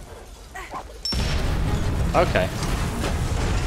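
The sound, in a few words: explosions in the video game Valiant Hearts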